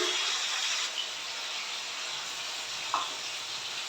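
Chopped chilli, tomato and ginger paste frying in a pan, a steady broad hiss of sizzling oil that stays even throughout, with a brief faint clink near the end.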